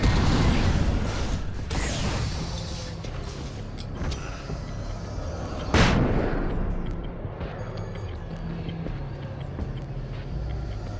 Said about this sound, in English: Flashbang might have been a bit much.